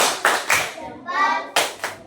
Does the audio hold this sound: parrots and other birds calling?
no